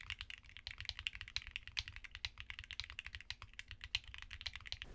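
Steady, rapid clacking of typing on a mechanical keyboard fitted with Akko Crystal switches, dense keystrokes close up and fairly quiet, with no talking.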